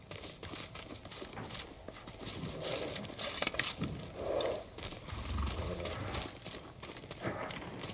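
Horse hooves clip-clopping in the stable area of the samurai video game Ghost of Tsushima, soft and moderately close, mixed with ambient game sound and a low rumble.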